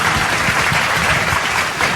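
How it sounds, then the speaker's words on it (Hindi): Loud, continuous applause from an audience greets poet Shailendra Mishra at a poetry recital, a thick steady roar of many hands without any speech. "कृपया एक बार इनका जोरदार तालियों से उत्साह भरिए"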